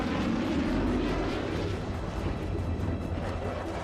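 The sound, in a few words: Eurofighter Typhoon fighter jet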